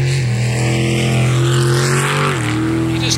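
A racing motorboat engine roars loudly and steadily during a powerboat race, its pitch holding high and then dropping briefly as it throttles through a right-angle turn.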